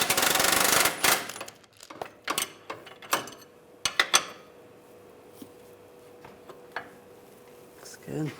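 Ratcheting wrench clicks in short bursts while tightening rear lower rearward control arm bolts on a 2006-2009 Mercedes-Benz E350, with metallic taps and a few quieter clicks afterward, close and moderately loud.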